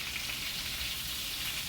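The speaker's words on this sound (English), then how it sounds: "I used a 1/4 cup of olive oil, 4 tablespoons of butter, got it hot, and then I shallow fried my chicken" Chicken breasts shallow frying in hot olive oil and butter, a steady close sizzle with bright crackling spread evenly throughout.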